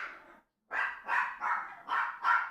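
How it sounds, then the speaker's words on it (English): Several dogs barking in short, loud, evenly spaced bursts after a brief first bark and a pause, close to the microphone with no talk over them. "I'm sorry about the dogs."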